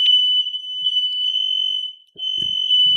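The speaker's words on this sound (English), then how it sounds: "Mike got all the alarms going off over there. Cell phones, smoke detectors." Smoke detector alarm shrieking as one steady, piercing high-pitched tone that holds loud almost without a break, with brief soft background thumps and rustles near the end.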